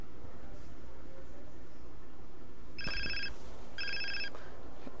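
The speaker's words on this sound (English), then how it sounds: "Oh, the phone ringing." A phone rings in the video game GTA San Andreas, two short electronic trill bursts heard over a low game background hum, with no talk during the rings.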